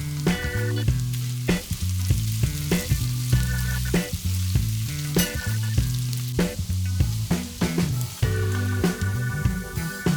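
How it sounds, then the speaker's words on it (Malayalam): Curry leaves, ginger and garlic sauté in a pan for a Kerala-style ash gourd chicken curry, with a steady frying sizzle and stirring running beneath prominent background music throughout. "ഇതിൻ്റെ കൂടെ കുറച്ച് കറിവേപ്പില കൂടിയിട്ട് നമുക്ക് വഴറ്റിയെടുക്കാം."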